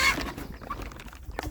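Chickens in a backyard chicken tractor with hardware cloth sides cluck and fuss close by, a loud burst at the start and then scattered softer clucks with faint wing rustling and no talk.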